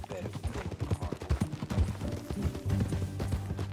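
Horse hooves clip-clop at a ride in Red Dead Redemption 2, a busy, irregular thudding with low rumble, while voices talk over it throughout.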